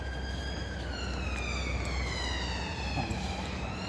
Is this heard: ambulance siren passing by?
yes